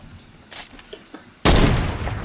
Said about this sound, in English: All I got is a heavy sniper. Let's see if I can kill this kid.